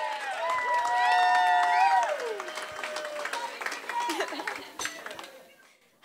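Wedding guests at The Breakers on Ocean in Spring Lake, NJ applaud and cheer for the maid of honor, steady clapping with whoops and raised voices mixed in, then thinning out near the end.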